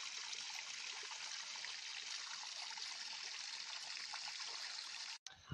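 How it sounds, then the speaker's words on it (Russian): Water babbling steadily over a beaver dam on a quiet stream, a continuous close rushing trickle that fills the whole stretch, cut off briefly at the very end. "Так приятно журчит,"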